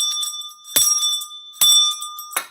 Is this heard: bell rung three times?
yes